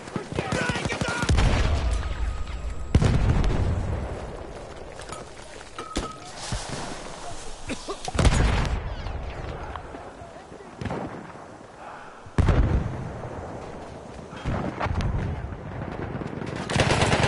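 Video game combat with a grenade thrown during an objective assault: bursts of automatic gunfire and loud blasts crash in repeatedly across the whole stretch, with dense battle noise between the louder hits.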